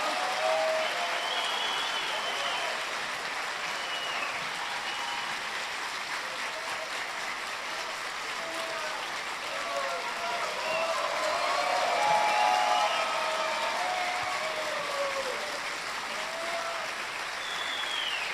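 An audience at a liberal conference talk bursts into sustained applause, a dense, even wash of many hands clapping that carries on steadily and swells slightly near the end.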